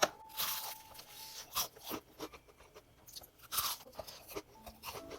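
Loud, crisp crunches of BHC Kwasak King fried chicken with a thick, sweet batter coating, bitten and chewed close to the mic in irregular bursts with no talking.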